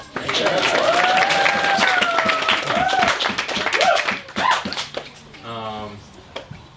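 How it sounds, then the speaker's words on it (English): Wedding guests applauding, a burst of clapping and cheering from a crowd with voices and a whoop over it, tapering off near the end as a single voice begins. "Let's give a round of applause"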